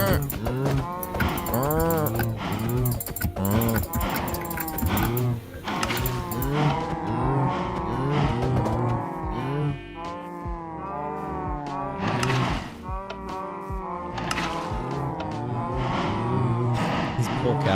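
Cows in the video game Minecraft moo repeatedly in overlapping, drawn-out calls, loud and close, over a continuous bed of game noise.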